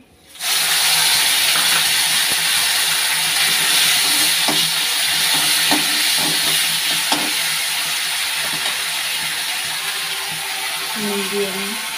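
Chopped tomatoes hit hot oil in a frying pan for a potato and paneer curry, raising a loud, steady sizzle and hiss that carries on throughout, with a few light stirring clicks.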